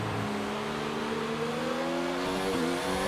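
A Formula 1 race car engine in the F1 2019 racing game, Mexico circuit, screams at high revs with rising pitch through the gears and a brief shift, loud and continuous with no talk.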